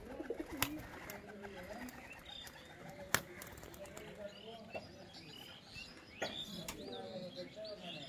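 Pigeons kept by a pigeon fancier, producing soft low cooing with scattered chirps and occasional wing or handling knocks, quiet and close, with faint voices in the background.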